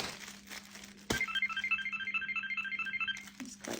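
A Jellycat soft toy phone plays a short electronic ringtone, a repeating trill of bright chirpy tones about two seconds long, close and fairly quiet, with soft handling rustles before and after.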